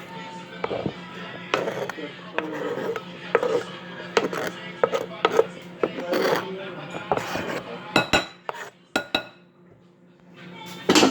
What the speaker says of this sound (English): your onions, go ahead and put it into your bowl